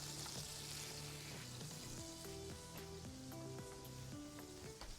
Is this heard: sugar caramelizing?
yes